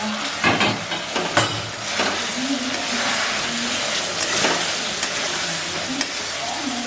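Chilli, cumin and coriander powder frying in oil while being stirred in a pan: a steady sizzle with repeated scraping strokes of the spoon, close and moderately loud.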